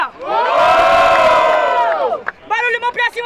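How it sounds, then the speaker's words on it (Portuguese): A crowd at the Batalha da Aldeia freestyle rap battle roars in one loud, sustained cheer and shout that lasts about two seconds, then breaks into shorter ragged yells and whoops. "Barulho, mão pra cima pra quem gostou da rima da Sofia"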